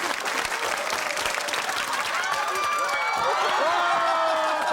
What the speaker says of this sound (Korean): 자 박수 박수.